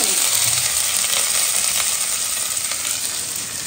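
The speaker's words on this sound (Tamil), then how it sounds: "எண்ணெய் நல்லா காஞ்சிச்சு. இதுல சோம்பு பட்டை வகை வந்து சேர்த்துக்கிறேன்." Loud, steady crackling sizzle of fennel seeds and cinnamon frying in hot oil, close up and continuous with no talking.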